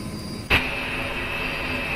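Large jet airliner engines run nearby in Microsoft Flight Simulator 2024, a steady loud roar and high whine that holds throughout, with a sharp thump just after the start.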